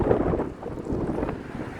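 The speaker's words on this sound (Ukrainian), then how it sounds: "Зараз чудовий сонячний день, але дуже сильний вітер." Strong gusts buffet the microphone with a low, rumbling roar that never lets up, blustery and close.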